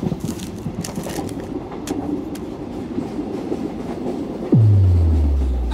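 A passenger train bound for Madurai via Tanjore rolls steadily on its rails with a low, constant rumble and faint clattering, then a sudden loud deep boom near the end that slowly fades.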